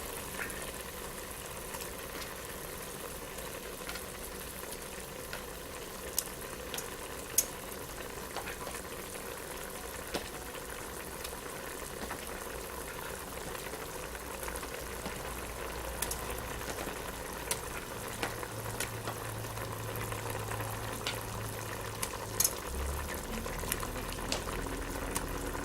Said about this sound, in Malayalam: മീൻ കഷ്ണങ്ങൾ നമ്മൾ അരപ്പിലേക്ക് ഇടുകയാണ് ഇപ്പോൾ